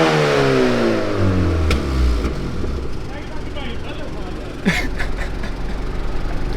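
A tuned Honda engine roars through a hard rev that falls away, followed by quieter engine noise with sharp crackles, close and loud, with people talking nearby.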